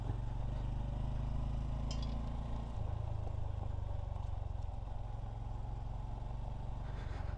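A Honda Trail 125 motorcycle rides at a park in Louisville, Kentucky, its engine humming close and steady with a low, even drone and slight rattles, the pitch shifting lower partway through.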